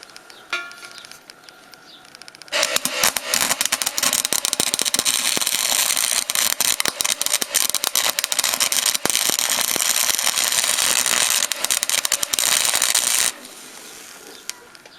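An old rusty metal frame is being tack welded with a stick welder. A dense, loud crackling buzz runs for about ten seconds, with quieter handling sounds before and after.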